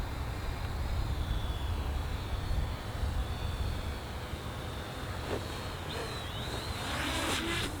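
A small MJX Bugs 6 drone hovers and descends outdoors, a steady whirring hum over wind rumble that rises near the end as it comes in close to land.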